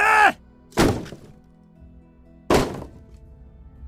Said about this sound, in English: With no hesitation, the father swung the axe into the wall.